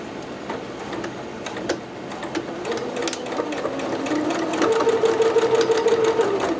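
A sewing machine back stitching a McCalls 6701 dress near boning gives a close, steady mechanical whirr with rapid ticking stitches that speeds up and grows louder over the last few seconds.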